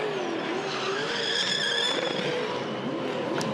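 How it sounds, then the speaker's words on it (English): A Ford Supercar doing a post-race burnout at the Hamilton 400 street circuit in 2012, engine roaring steadily with tyres squealing and a rising, wavering whine, loud and close throughout without talk. "I'm doing a burnout, he said."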